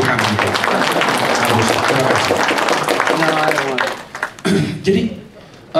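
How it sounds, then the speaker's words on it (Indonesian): An audience at an Indonesian embassy community gathering in Chile claps in sustained, dense applause that tapers off after about four seconds, leaving a few scattered claps and murmuring voices. "Tolong ya, tepuk tangan itu."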